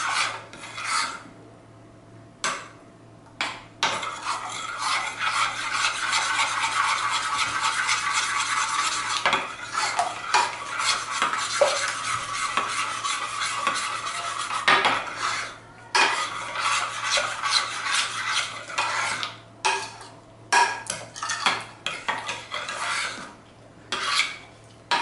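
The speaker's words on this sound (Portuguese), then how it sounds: "Vou misturar." A spoon scrapes and stirs homemade yogurt in a bowl, steady rasping strokes with occasional clinks against the sides, continuing for a long stretch with short pauses and no talk.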